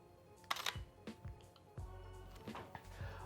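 A Sony camera fires its shutter with electronic front curtain enabled, several short mechanical clicks in an uneven sequence, close and fairly crisp, with light handling noise between shots.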